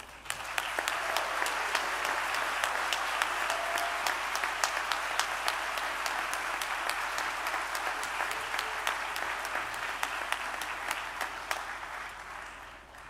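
An audience at a spring convocation ceremony gives sustained, warm applause for the Brian Sand Quintet, with dense clapping at an even level through the whole stretch.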